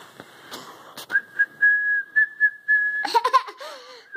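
A steady held whistle note, briefly broken, followed by a rising and falling whistled tune, with short bursts of a voice and laughter around it.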